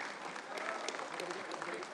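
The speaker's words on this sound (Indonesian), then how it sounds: "Berikan tepuk tangan yang meriah" Audience applause at a 25th anniversary celebration of the PAN party, a steady wash of clapping from a seated crowd, moderately distant, with a murmur of voices mixed in.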